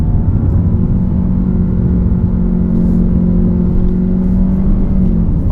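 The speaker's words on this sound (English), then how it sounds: "CVT is working very, very hard" A 2019 Nissan X-Trail with a 2.5-litre engine, CVT and all-wheel drive, driven hard and revving under heavy load, a loud, sustained droning whine heard from inside the cabin.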